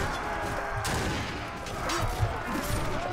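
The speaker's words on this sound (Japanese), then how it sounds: "後ろの銃声がやばい" Gunfire volleys during a large siege battle at Odawara Castle in Mount&Blade Gekokujo: faint, dense crackling shots blending into a continuous noisy battle din, distant rather than close.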